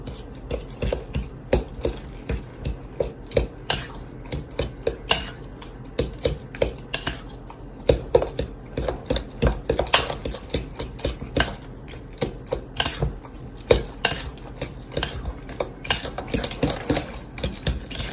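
A utensil mixes the liquid ingredients for banana bread in a bowl, making steady, quick clinks and scrapes against the bowl that run nonstop for about eighteen seconds, close up, with no talking.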